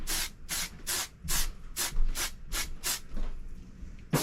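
An aerosol product sprays in about nine quick, evenly spaced hissing bursts while someone gets ready, close and fairly loud, with faint rustling between the sprays.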